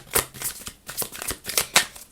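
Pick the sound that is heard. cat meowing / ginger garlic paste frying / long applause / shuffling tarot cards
shuffling tarot cards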